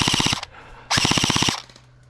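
A Double Bell M4 gel blaster, a nylon-bodied entry-level blaster rated at 350 fps, fires two rapid bursts of about six sharp snapping shots each, close and loud, with a short pause between them.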